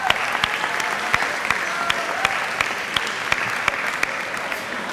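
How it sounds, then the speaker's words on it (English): An audience at a high school fine arts assembly claps steadily, a dense, sustained round of applause with sharp individual claps standing out, and no voices over it. "give them a little round of applause before I go on to the next person"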